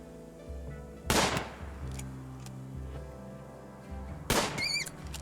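Two sharp gunshots in the survival game Ultimate Sea Ice, about three seconds apart, ring out loud over a steady low drone of game ambience; after the second shot, warbling high tones follow.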